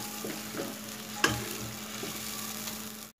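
A ginger, garlic and green chili paste sautés in a pan with a steady, moderate sizzle. A sharp clatter of stirring comes early on, and no one speaks.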